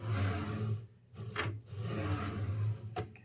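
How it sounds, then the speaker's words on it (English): A bolt is tightened on the XY joint of a 3D printer's X gantry during an Inertia Cube build. Close, dry rasping and rubbing comes in a few strokes with short pauses, with no talking. "tightening the final bolt on the XY joint"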